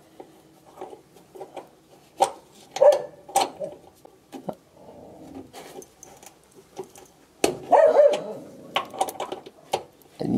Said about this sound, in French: Il faut que le chien y mette sa signature dans tous mes tutos, faut qu'il aboie